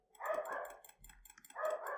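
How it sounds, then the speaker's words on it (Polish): A dog barking in the video game Jade Empire: two short, clear barks about a second apart, fairly close but not loud. "Tak, uwielbiam, jak psy szczekają."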